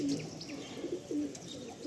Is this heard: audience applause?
no